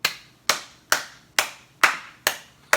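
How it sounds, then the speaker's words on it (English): One person claps his own hands seven times at an even, unhurried pace, each sharp clap close and distinct, with quiet gaps between. "give myself a hand clap"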